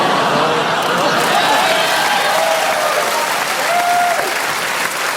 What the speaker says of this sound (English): Ready to clap?